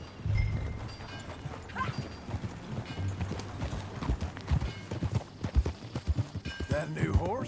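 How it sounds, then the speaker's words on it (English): Horse hooves clip-clop in Red Dead Redemption 2, a steady rhythmic plodding close by, with a horse whinny and snorts, accompanied by speech and low background music. "That a new horse?"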